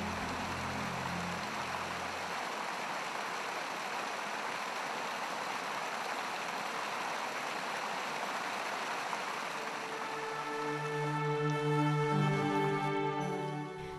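Water rushes steadily from the 84 spouts at Muktinath in a dense, even wash of flowing sound, with tonal music rising beneath it in the final seconds.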